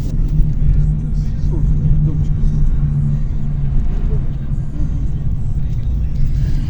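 A car drives through the streets of Kharkiv, a steady, loud low engine and road rumble heard from inside the vehicle, with voices speaking faintly over it.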